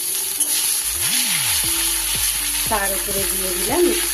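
Hot oil with tempering spices and a pinch of turmeric sizzles in a pan, a bright continuous hiss that runs beneath a voice speaking throughout.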